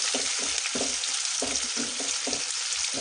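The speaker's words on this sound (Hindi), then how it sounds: "और प्याज को मैं भून लूंगी" Onions sauté in a pan for baingan bharta under a constant sizzling hiss, with a regular rhythm of spatula scrapes and stirs about every half second.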